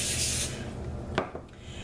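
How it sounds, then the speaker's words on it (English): A short burst of non-stick cooking spray hisses onto aluminum foil, followed by a couple of faint rustling handling sounds of the can and foil. "I want to go ahead and spray my foil with some non-stick cooking spray"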